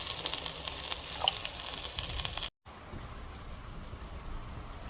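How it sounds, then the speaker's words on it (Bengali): Milk poured into roast masala sizzling in ghee, a steady crackling fry across the whole stretch, briefly cut off midway, then continuing more softly. "রোস্টের মশলাটা ভালো করে কষানোর জন্য এখন অ্যাড করছি কিছুটা দুধ"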